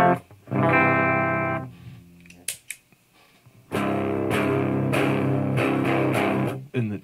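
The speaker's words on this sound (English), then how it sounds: "This is the clean signal here." Clean electric guitar played straight through a DOD Boneshaker distortion pedal with the distortion dialed all the way down, giving loud, ringing chords and single notes with a short pause before the strumming resumes.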